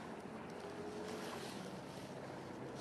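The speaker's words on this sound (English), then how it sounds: "This current of the tide going out," Tide going out pulls a fast current of water around a kayak, giving a steady broadband wash and rush of flowing water with some wind buffeting, close and continuous throughout.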